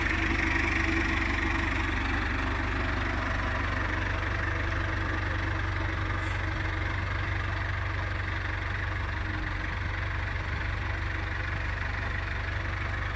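A New Holland tractor engine idles steadily and close, a constant low rumble with a faint knocking beat and no voices.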